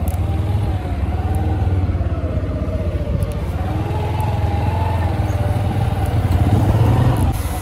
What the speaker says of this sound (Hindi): तो देख सकते हो गाइस प्रवीण बाइक चलाते हुए